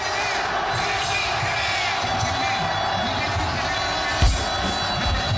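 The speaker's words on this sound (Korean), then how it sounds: "함성시작!" A crowd at a candlelight protest march in Korea raises a sustained, loud collective shout, a steady roar of many voices with a brief sharper burst near the end.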